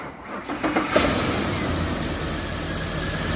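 A 2007 Ford Explorer 4.6L V8 with misfire and overheating trouble cranks and fires up, settling into a steady, loud idle rumble with a hissy upper layer; no talking.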